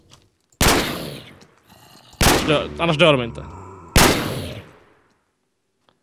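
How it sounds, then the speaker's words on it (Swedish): Gunfire from a P90 in a video game as zombies are shot: three sharp, loud single bursts spaced about two seconds apart, each ringing out briefly, with someone talking between the second and third. "Skjut han med P90."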